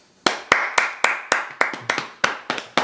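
A single person clapping in a podcast studio to welcome a guest, about ten sharp, evenly spaced claps close to the microphone, with no voices.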